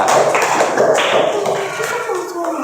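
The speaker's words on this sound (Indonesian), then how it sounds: "Beri semangat untuk kelompok 2, tepuk tangan." A classroom audience applauds a student group as it comes up to present. The clapping is dense and lively, starts loud, and tapers slightly over a few seconds.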